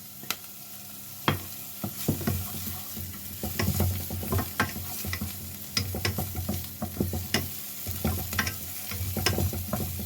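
Crushed garlic sizzles in hot oil in a frying pan while being stirred, a steady close crackle broken by repeated scraping strokes and clicks of the utensil, with no voices.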